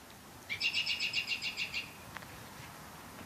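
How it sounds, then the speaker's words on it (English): A bird sings in the early morning near a garden, a single faint, rapid trill of about ten evenly spaced high notes lasting just over a second against quiet outdoor ambience. "It's the early morning, guys. Can you hear all those birds?"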